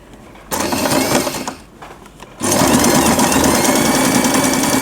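Sewing machine stitching a back stitch on a fabric hair bow, a fast steady mechanical whir that starts, pauses briefly, then runs again louder and close.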